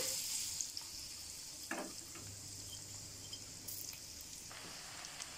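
Garlic fries in hot oil, a quiet steady sizzle with a few stirring scrapes and light clinks, faint and close, no speech.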